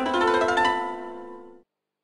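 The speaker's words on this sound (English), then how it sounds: "It's the sound of a lyre." Plucked lyre from a 1997 interactive encyclopedia, a short bright run of harmonic strummed notes ringing out for about a second and a half before stopping abruptly, heard alone.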